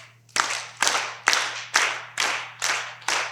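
Roughly seven sharp, evenly spaced claps ring out in unison from a group of children playing Simon says, each crisp burst followed by a short room decay, over a low steady hum.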